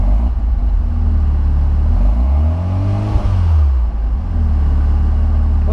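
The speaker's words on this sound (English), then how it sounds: "I'm gonna go ahead and give it a little bit of gas." Mazda RX-7 FD3S rotary engine with an Apexi Power FC installed, idling loudly up close and then briefly revving up and back down in a smooth swell before settling to idle again.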